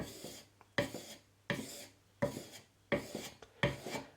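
A wood chisel is drawn back across a sharpening surface in six evenly spaced raspy strokes. Each stroke is a close, gritty scrape with brief pauses between.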